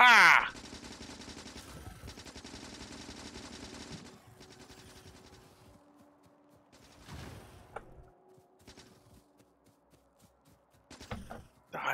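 Automated gun turrets fire at enemies in the video game Factorio, sounding as rapid rattling bursts that thin out over time. A voice briefly breaks in at the start and end.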